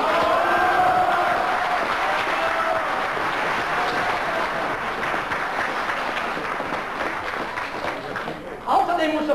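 An audience at a public meeting about a military training ground in Blumau-Neurißhof applauds in a dense, sustained patter of clapping mixed with voices, which thins out toward the end.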